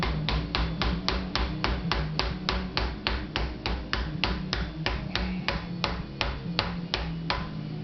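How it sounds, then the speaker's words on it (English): A brass hammer taps an aftermarket wheel bearing into the hub of a Honda TRX Foreman 4x4 ATV, a long run of about twenty-five evenly spaced sharp metallic knocks, close and clear, slowing slightly near the end. "Oh, it's a brass hammer."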